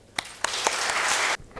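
An audience at a graduation celebration for architecture and interior design students gives a short burst of applause, beginning with a few sharp separate claps and then swelling into a dense roar that stops abruptly.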